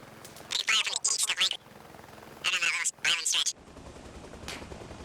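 In the Arma Reforger video game, gunfire cracks past as a shot just misses the player, interleaved with bursts of close speech and followed by a quieter stretch of ambient noise.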